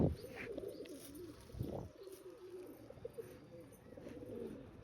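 Pigeons coo softly and steadily while being fed grain, a low, continuous cooing with a few faint chirps and no voices.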